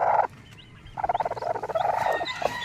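A white Kelso hen with her newly hatched chick, giving a run of soft, rhythmic clucking vocalizations close to the microphone, broken by a brief pause near the start.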